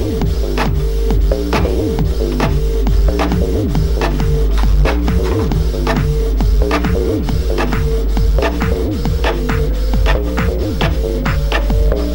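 A printer runs continuously, its rapid mechanical clicks and rhythmic whirring shuttle strokes repeating in a tight, loud pattern close by, with no voices over it.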